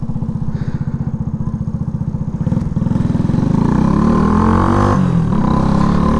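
A Shineray motorcycle engine runs after an oil change, a rapid, even thumping idle that rises into a louder, smoother rev and holds there, close up.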